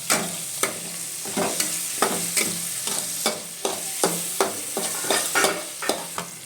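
Chicken pieces for chicken sukka fry in a pan with salt, a steady sizzle broken by regular spatula scrapes, about two strokes per second, close and clear with no talking.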